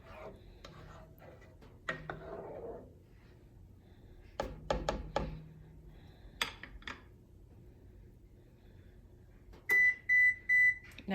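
After a few faint kitchen clatters and taps, an oven gives three short, sharp electronic beeps near the end, signalling it has finished preheating.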